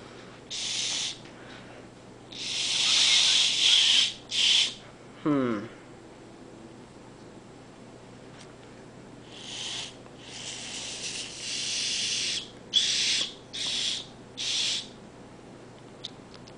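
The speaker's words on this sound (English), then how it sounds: "I was getting little chirps out of it that sounded actually like a real whistle" Breathy, hissing blows into a tin can whistle come in bursts, one producing a brief rising chirp, with pauses of quiet between attempts.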